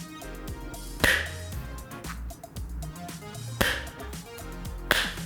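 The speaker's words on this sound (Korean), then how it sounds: "벨킨이랑 그리고 그신지모로두 배 자력이랑 붙을 때 소리 한번 비교해서 들려드릴게요" A clear MagSafe phone case snaps onto a phone with a strong magnetic pull, producing three crisp, slapping clacks at irregular intervals, close up, over quiet background music with no voices.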